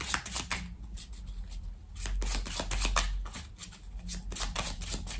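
Tarot cards being handled and shuffled, a steady run of soft papery riffles and flicks close by with no talk.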